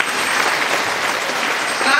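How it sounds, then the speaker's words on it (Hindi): An audience at a women's association gathering applauds loudly and steadily, a dense continuous patter of clapping throughout. "चलिए हम लोग भी उनके लिए जोर से ताली बजाएंगे"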